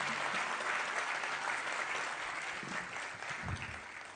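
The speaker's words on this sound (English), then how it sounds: "give a big round of applause for all our participants" A crowd applauding participants at a competition's grand finale, steady dense continuous clapping from many hands that fades slightly toward the end.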